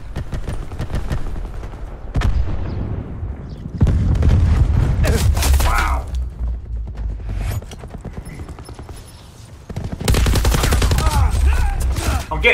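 Hades light machine gun from Call of Duty: Black Ops 4 firing in loud sustained bursts, with heavy rapid fire dominating several stretches and brief lulls between volleys.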